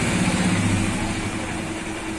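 A Honda E1000 petrol generator engine runs at a steady idle, producing a continuous low, even drone with no pauses or changes in speed.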